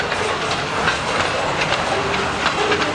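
A southbound train rolls past close by, wheels clattering rhythmically over the rails under a broad, steady rumble.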